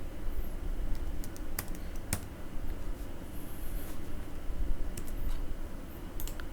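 Someone types on a computer keyboard while working in an Excel spreadsheet, giving a run of light, irregular clicking keystrokes with a few sharper taps, close and fairly quiet, and no voices.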